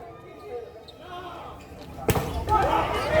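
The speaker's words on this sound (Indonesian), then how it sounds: "pukulan keras yang dilepaskan depan tadi" A hard volleyball spike lands during a tournament match between Bank Indonesia and PBVSI Lhokseumawe, a sudden sharp impact followed by crowd noise, while a commentator talks throughout.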